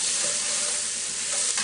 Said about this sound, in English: these vegetables cook a little bit until they're translucent